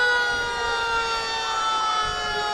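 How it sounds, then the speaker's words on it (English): A fire department ladder truck's siren wails steadily throughout a Christmas parade, its layered tones loud and continuous over crowd murmur with no talk. "So you can see our ladder trucks coming through."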